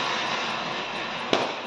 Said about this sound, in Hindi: अनार जलाओ